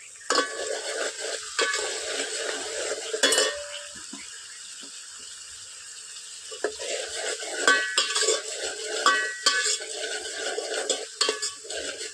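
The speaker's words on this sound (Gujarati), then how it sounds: "હવે આની અંદર આપણે કાપેલા ટમેટા નાખી દઈએ" Chopped tomatoes sizzling in a hot pan in a village kitchen, a spoon stirring and scraping with clinks against the metal, a steady frying hiss underneath and a quieter stretch in the middle, close up with no speech.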